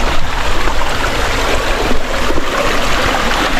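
Chan Ta Then waterfall stream in rainy season, a loud, dense, continuous rush of water close by with no talking.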